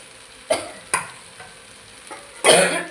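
Dry-fried okra (bhindi) in a pan, with brief stirring scrapes and sizzling bursts close by, including a louder stir near the end.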